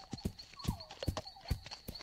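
Hooves clip-clop in an animated Dragon Prince cartoon, four or five sharp, evenly spaced knocks of a horse walking, close and clear with a faint whinny-like tone running above.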